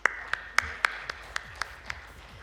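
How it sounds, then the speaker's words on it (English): Sparse applause at a panel discussion on CT scanning in imaging, heard as a few separate claps spaced roughly every quarter second over a steady electronic tone, fairly quiet and thin. "Please, can we have a round of applause?"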